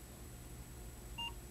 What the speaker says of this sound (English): the computer will beep at you to tell you that the recording has begun